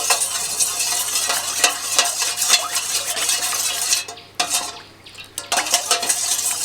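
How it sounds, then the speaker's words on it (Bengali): A spoon stirs black salt into watermelon juice, making repeated light clinks and scrapes against the container in a quick, uneven rhythm, briefly pausing midway, with no talking. "এটাকে এভাবে খুব ভালোভাবে ঘুরিয়ে ঘুরিয়ে মেশাতে হবে।"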